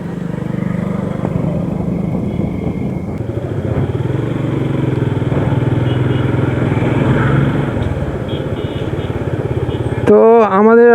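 A motorcycle engine runs loud and steady while the bike is ridden, a continuous close drone that holds for the whole stretch and ends with a brief rising whine.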